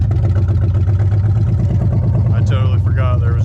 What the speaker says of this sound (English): I totally forgot there was no exhaust on this thing. Oh man, it's so loud.